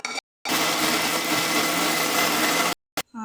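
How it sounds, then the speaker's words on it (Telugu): An electric mixer grinder runs steadily for about two seconds, blending tomato-onion chutney ingredients in its jar in a home kitchen. The motor whir is loud and continuous and starts and stops abruptly, with brief voices just after it. "ఇప్పుడు మిక్సీ జార్లో వేసి మిక్సీ పట్టుకుందాం మెత్తగా"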